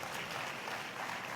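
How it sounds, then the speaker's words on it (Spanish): Dense applause from an audience at a celebration event, a continuous, fairly distant wash of clapping filling the whole moment. "a mí también me podéis aplaudir"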